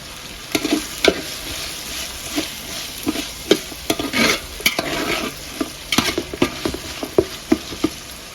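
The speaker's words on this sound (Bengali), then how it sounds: "এখন গাজর দিয়ে ভালো করে মিশিয়ে একটু ভেজে দিব।" Sliced carrots and split green chilies fry in oil in a pan while being stirred, a steady close sizzle broken by repeated scraping clinks of the spoon against the pot.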